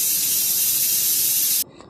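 A loud, sustained steam hiss blasts from a pressure cooker cooking mutton curry, then cuts off abruptly, leaving near silence.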